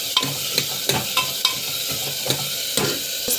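Taro sautéed with ground paste in a pan, a steady sizzle broken by regular spatula scrapes and taps against the metal, roughly two per second, close and moderately loud.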